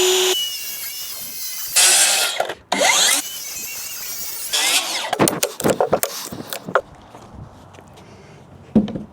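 A power saw cutting wood for a backyard playhouse rock wall: loud, close whining bursts with brief gaps, followed by scattered knocks and clatter as the cut finishes.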